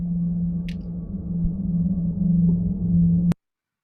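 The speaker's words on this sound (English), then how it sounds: "So if I really shorten the attack, it sounded like this." Sampler synth note with a very short attack, a steady low droning tone held for about three seconds under faint background hiss, then cut off abruptly into silence.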